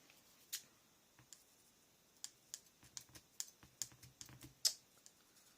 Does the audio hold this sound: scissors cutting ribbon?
yes